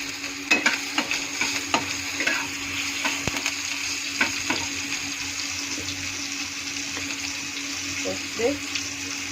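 Asafoetida and green chillies frying in hot oil, with dried red chilli already darkened in the pan, give a steady broadband sizzle and scattered stirring clicks and scrapes at close range, with no talk.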